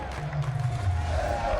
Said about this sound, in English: they are still cheering for you here in the Mercedes-Benz Arena